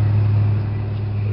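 An old-school monster truck with countless miles on it idles steadily, a loud, deep, even engine rumble close by with no voices.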